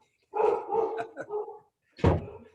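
A dog barks indoors in a few rough, close bursts, the last one sharp and loud, heard on a live call.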